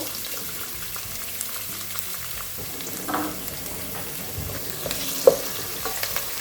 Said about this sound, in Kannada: ಅದನ್ನ ಚೆಂದಾಗಿ ಈ ತುಪ್ಪದಲ್ಲಿ ಹುರ್ಕೋಬೇಕು